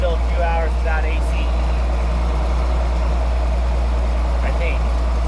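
A Case IH farm tractor engine idles on a Kansas farm, a constant low rumble that runs unbroken under someone talking nearby.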